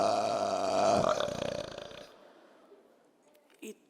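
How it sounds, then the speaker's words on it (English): A single long, loud, rumbling burp lasts about two seconds, then trails off into quiet with a brief small noise at the end. "It was the biggest burp I had ever done."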